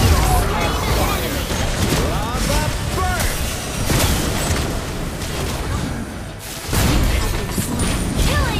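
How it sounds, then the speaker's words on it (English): Mobile Legends video game team fight as a turret is destroyed, dense overlapping booms, impacts and effect bursts, loud and continuous, with in-game announcer voice lines. "Your team destroyed the turret."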